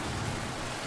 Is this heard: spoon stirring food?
no